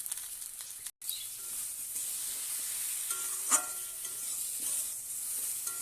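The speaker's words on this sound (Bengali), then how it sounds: "এবার এটাকে ভালো করে ভেজে নিই।" Onion, green chillies and spices fry in oil for a rohu fish curry with potato and taro, giving a steady close sizzle with stirring scrapes and a brief sharp crackle partway through.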